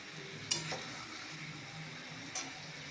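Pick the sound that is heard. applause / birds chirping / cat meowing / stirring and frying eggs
stirring and frying eggs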